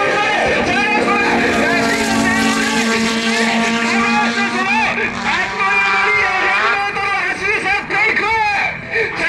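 Ferrari Challenge Stradale supercars roar off the start line at a race event, their engines revving in rising, wavering whines over loud crowd noise and an announcer's commentary.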